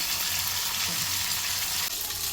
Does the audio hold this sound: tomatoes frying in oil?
yes